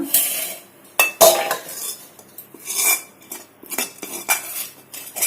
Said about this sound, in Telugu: ఇప్పుడు నేను వేరే గిన్నెలకు మార్చుకుంటా